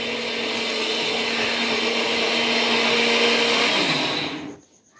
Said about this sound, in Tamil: அரைக்க ஆரம்பிச்சிட்டாங்க அது எதுக்காகன்னு பார்த்தீங்கன்னா சாம்பாருக்காகன்னு நினைக்கிறேன்